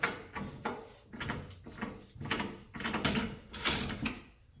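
A socket and nut are threaded onto an axle to draw it into a 2013 Nissan Armada wheel hub, repeated close ratcheting, grinding turns in a steady rhythm of about eight strokes.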